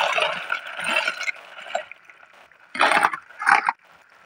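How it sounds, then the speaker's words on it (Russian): Pasta goes into a pot of salted boiling water, with loud, close splashing and churning bubbles. Two sharper bursts of splashing rise near the end before it settles. "Подсоленную воду добавляем пасту и варим 12 минут."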